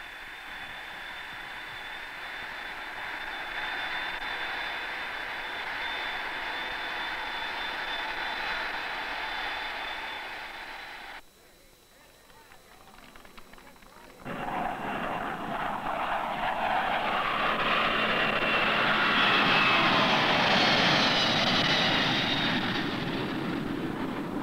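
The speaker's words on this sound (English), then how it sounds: "The plane is rolling." A McDonnell Douglas DC-10 jet rolls for takeoff on runway 12 at Long Beach, its engines a loud, steady roar that drops out briefly, then surges back louder and sustained as the airliner accelerates, with no talk.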